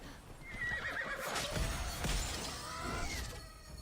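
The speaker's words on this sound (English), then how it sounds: "Like, look at my horse." A horse in the video game Immortals Fenyx Rising gives a loud, drawn-out whinny, with hoof clip-clops and a sharp shattering crash mixed in.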